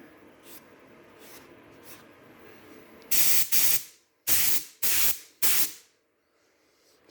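A spray gun releases base coat paint in loud, close hissing bursts: one longer spray followed by three short blasts, each cutting off sharply into a quiet room.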